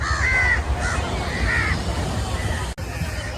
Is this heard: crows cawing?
yes